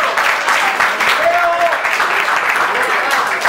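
Loud, dense crowd applause and cheering at a freestyle rap battle event in Río Gallegos, continuous and close, with voices mixed into the noise.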